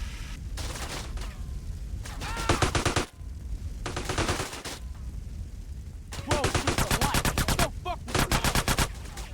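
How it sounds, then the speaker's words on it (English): Rapid automatic gunfire from GTA San Andreas rattles in several loud bursts of quick repeated shots, separated by brief gaps with other game noise underneath. "Stop shooting me."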